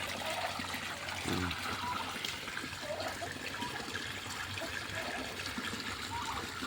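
Water from a deep well pipe runs steadily into a catfish tank, a constant splashing trickle and gush, fairly close and unbroken.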